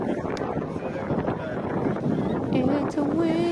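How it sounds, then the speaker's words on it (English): Wind buffets the microphone on a windy day near an airport beach, a loud steady roar with people talking over it. "I mean, we can literally hear it's a windy day."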